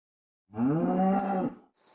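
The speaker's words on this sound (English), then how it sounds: "apparently a cow got in here" A single close, loud cow moo from Minecraft, lasting about a second, alone with no talking.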